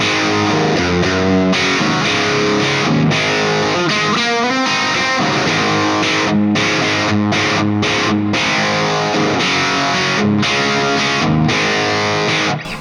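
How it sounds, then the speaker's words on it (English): Electric guitar played through a NUX Amp Core Studio on a mid-scooped, vintage plexi-style Marshall heavy tone: loud distorted chords and riffs with brief choked gaps, continuous and close. "if I hit the foot switch, I go over to a Marshall heavy tone, which is a bit more mid-scooped"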